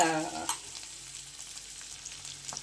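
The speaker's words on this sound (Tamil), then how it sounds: "பூண்டு நல்லா வதங்கி வரணும்." Garlic frying in oil in a pan for garlic chutney, a steady close sizzle with a brief louder crackle and stir near the start, no talking.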